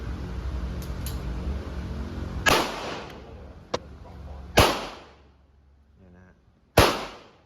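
A P-IX handgun is test-fired at an outdoor shooting range in Bang Bua Thong at a target about ten to fifteen metres away. Three sharp, close reports come roughly two seconds apart, with a small click between and quiet gaps.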